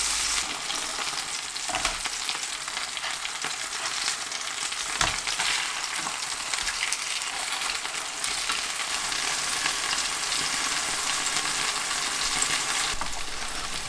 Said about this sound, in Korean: 식용유 3-4큰술 정도를 두르고 대구 올려 중약불로 노릇하게 굽습니다